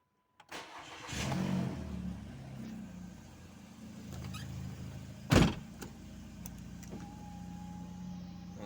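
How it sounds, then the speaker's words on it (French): A car fitted with a sport exhaust and converted to run on E85 is cold-started and settles into a steady idle, with a brief sharp mechanical clunk partway through and a faint high tone near the end. "la voiture fait un peu de bruit parce que j'ai un échappement sport dessus"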